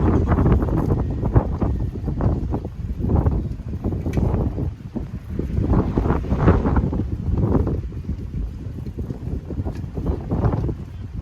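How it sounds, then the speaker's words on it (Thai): Strong wind buffets the microphone nonstop on a sea bridge near Bangkok, a loud, gusty roar that fills the whole stretch with only faint traces of voices. "ลมแห้งขนาดเลย"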